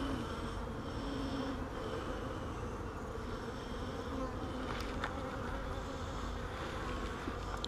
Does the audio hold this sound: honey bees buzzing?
yes